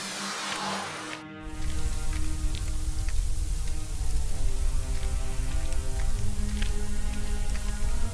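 Rain in the video game Deponia Doomsday falls as a steady patter with scattered droplet ticks, continuing over a low ambient bed after a brief quieter opening.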